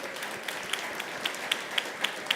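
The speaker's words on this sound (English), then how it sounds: "Give yourselves a round of applause." An indoor audience at a Stop Food Waste Day event breaks into a round of applause, with steady dense clapping and a few sharper individual claps standing out near the end.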